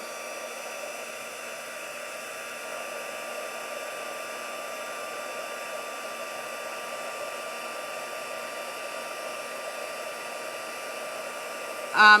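A heat gun blows a continuous, loud, steady whoosh while melting embossing powder on a paper craft piece, running nearly the whole time before a brief clatter at the end.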